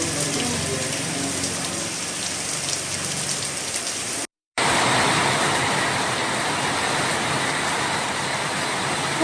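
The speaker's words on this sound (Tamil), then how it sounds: "கிருஷ்ணகிரியில் பல்வேறு பகுதிகளில் கனமழை பெய்து வருகிறது." Heavy rain pouring down in Krishnagiri, Tamil Nadu, a dense continuous hiss of drops on surfaces, interrupted by a brief cut to silence before resuming just as loud.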